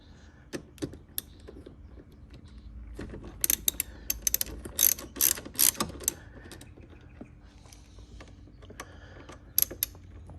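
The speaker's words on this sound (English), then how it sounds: "So I'm going to pull those bolts using a number 30 Torx bit." A ratchet fitted with a number 30 Torx bit backs out the airbag bolts on a 2001 Sebring steering wheel, with close, sharp clicking bursts in quick runs separated by pauses.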